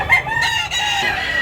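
A three-year-old White Hatch gamecock crows loudly and close, one sustained cock-a-doodle-doo call filling the short stretch.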